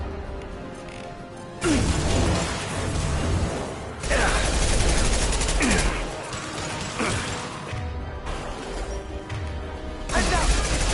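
Heavy impact-shot gunfire and mechanical weapon clatter in the video game Mass Effect 2, loud bursts separated by brief lulls amid busy combat noise.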